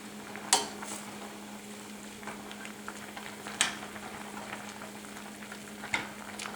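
Moringa leaves stirred in a cooking pot over a low simmer, with soft bubbling and frying underneath and three sharp clinks of a utensil against the pot, spaced a few seconds apart.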